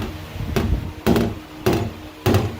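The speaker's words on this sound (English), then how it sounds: "just let the hammer, the weight of the hammer bounce." A body hammer taps lightly on a Fox body Mustang's metal panel, letting its weight bounce, making four sharp knocks spaced about half a second apart with soft rebound taps between them, close and clear.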